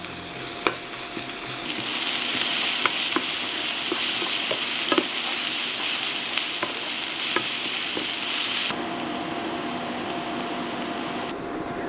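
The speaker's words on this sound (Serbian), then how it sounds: "na ovoj istoj masnoći gdje smo pržili meso, propržit ćemo crni luk dok ne omekša" Steady close sizzling of onions frying in fat left from frying meat, with occasional clicks of a spoon stirring, dropping to a quieter hiss near the end.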